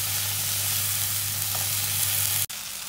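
Tomato and ginger-garlic paste frying with onions in a pan: a steady, close hiss of sizzling over a low hum, with a brief stirring scrape and a sharp clunk near the end.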